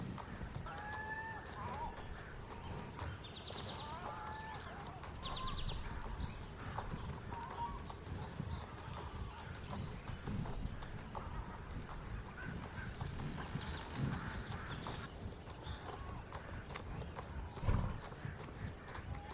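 Rhythmic clip-clop of a well-bred dressage mare's hoofbeats at a canter, steady and continuous near the listener, with an occasional whinny and outdoor background noise throughout.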